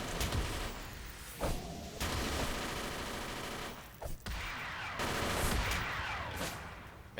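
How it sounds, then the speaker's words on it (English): Tommy gun fire in the superhero game City of Heroes, several sharp bursts of rapid shots separated by short gaps, fairly close and punchy with no talking. "that Tommy gun does a lot of damage"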